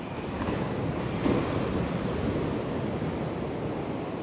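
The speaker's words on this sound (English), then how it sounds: "Even on a little windy day as today." Wind blowing steadily outdoors on a breezy day, a continuous broad rushing roar buffeting the microphone at moderate level, with no speech.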